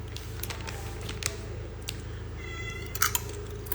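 A pet cat named Ahil gives a short, faint meow amid a quiet room with scattered clicks and soft tapping noises.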